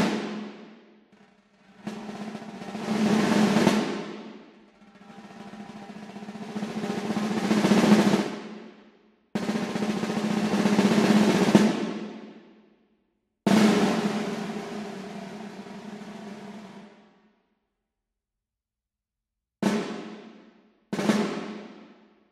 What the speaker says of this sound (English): Then we have the snares, which sound like this.